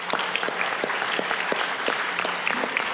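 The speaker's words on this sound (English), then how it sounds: "I hope you join me in a round of applause for them as well." A conference audience breaks into sustained applause, dense even clapping filling the room at steady volume throughout, with no voices standing out.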